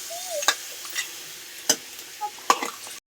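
Chili is stirred into hot frying oil, with sharp clinks of a utensil against the pan at uneven intervals over a faint sizzle.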